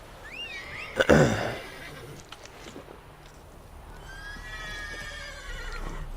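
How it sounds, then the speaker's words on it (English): A horse in The Witcher 3 lets out a loud whinny near the start, followed by quieter shrill calls and a steady ambient background. "Something's freaking out this guy's horse."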